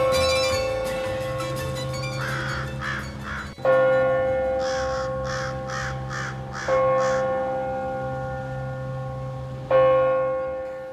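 A funeral church bell tolls slowly and loudly, each deep ringing strike swelling and decaying over several seconds, with crow-like cawing bursts in the background and no speech.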